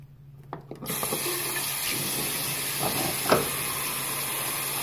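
Tap water runs steadily into a sink as hands are washed, a constant hissing flow that starts abruptly and continues alone, with a few small splashes and knocks.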